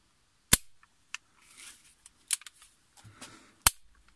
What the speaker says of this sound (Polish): Jest w miarę krótka droga spustu. I nie trzeba użyć dużo siły, żeby tą ścianę przełamać.